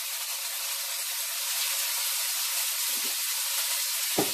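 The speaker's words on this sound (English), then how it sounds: "I'm going to throw in my fiddleheads and saute them. That's the sound you want to hear when your oil is ready." Fiddleheads sauteing in hot oil in a pan, a steady bright sizzle hissing continuously at close range, with a small clatter near the end.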